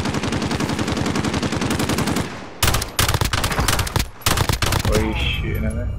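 Gunfire from the video game Call of Duty: Modern Warfare comes as loud, sustained automatic bursts. The rapid shots are interrupted by brief pauses and then resume in dense volleys.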